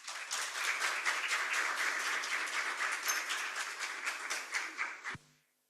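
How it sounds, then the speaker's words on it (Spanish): Seminar audience gives a long, steady round of applause for a prize-winning speaker, a dense even wash of many hands that cuts off sharply near the end. "Le damos un fuerte aplauso a Claudia."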